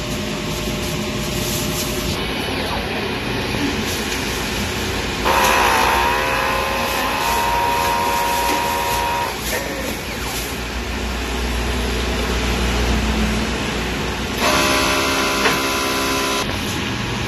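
A DTF printer runs a print head cleaning cycle, giving off steady mechanical whirring over a constant hum, with bursts of tonal motor whine that start and stop as the cycle moves along.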